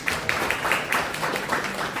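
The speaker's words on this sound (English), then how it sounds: "Round of applause for them." An audience at a spiritual talk applauds, a steady wash of many hands clapping at moderate loudness, somewhat distant and roomy, lasting throughout without pauses.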